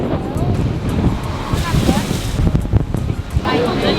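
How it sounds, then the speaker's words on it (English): Strong coastal wind buffeting the microphone on a boat ride near Benagil Cave, heavy roaring gusts mixed with surf and water splash, loud and constant under occasional voices. "it's really, really windy out, so I'm not sure if you can even hear me"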